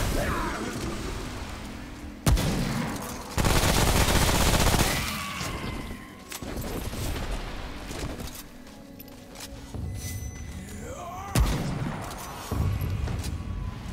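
Sniper rifle fire in the video game Remnant: From the Ashes: several sharp, loud shots with booming tails, spaced a few seconds apart over dense game ambience.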